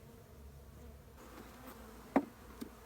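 Honeybees hum inside a hive with melted honey on the bottom board, a low, steady drone, close and continuous, with a soft tap partway through.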